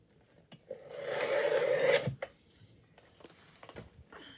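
Paper being trimmed for a crossword puzzle collage, heard as one close rasping cut that lasts over a second, followed by soft scattered handling rustles in a quiet room.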